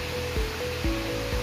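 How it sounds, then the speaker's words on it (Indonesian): Water runs from a tank into a recirculating aquaculture system after a valve is opened, giving a close, steady hiss of flow with soft low thumps recurring about every half second. "dan air mengalir dari tangki menuju ke sistem dengan mudah sekali"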